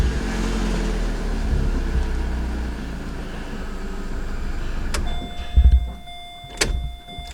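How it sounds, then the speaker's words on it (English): A Fiat 500 car engine cranks and fires up, with a couple of sharp starter bursts after a steady background hum, heard close and fairly loud. "I'm going to show you when I start the car"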